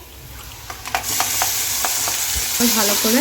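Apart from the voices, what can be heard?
frying green chili, ginger and garlic paste in pan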